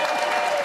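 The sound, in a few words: audience applause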